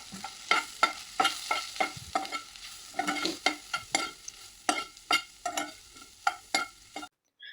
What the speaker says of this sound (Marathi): त्यावर हळद, तिखट, जिरं पूड, मीठ सगळं काही घालायचं आणि त्याला छान फ्राय करून घ्यायचं